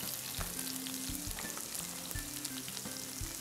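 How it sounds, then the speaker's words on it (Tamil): Shallots and onions fry in hot oil for a chicken curry, a steady close sizzle with soft bubbling crackle and occasional stirring clanks against the pan. "ஸோ நல்லா கோல்டன் கலர் ஃப்ரை ஆகிடுச்சு"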